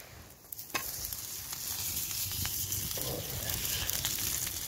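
Sausage, onions and chilies sizzle steadily on a grill over a campfire at a wild camp in Scotland, a continuous close frying hiss with a sharper burst near the start and no talking.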